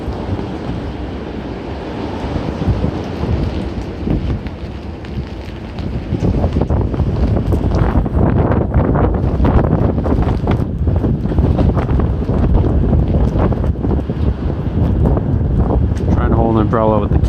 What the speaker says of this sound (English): So I'm just gonna show the storm here.